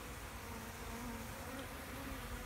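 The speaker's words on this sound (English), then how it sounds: "The bees are on my arm here." Honey bees buzz close by on a person's arm while being fed sugar, a continuous, droning hum, several insects swarming steadily without pause.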